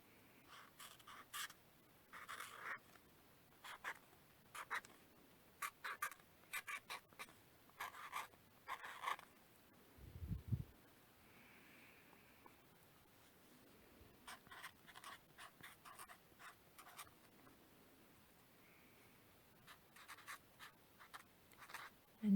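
A slightly thick pen writing on paper in an art journal, with quiet, close scratchy strokes coming in short irregular bursts and a brief low thump partway through.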